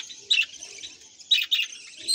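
Budgerigars in a home aviary with about five breeding pairs, thin high chirps and warbles arriving in short bursts close by over quiet gaps, with no voices.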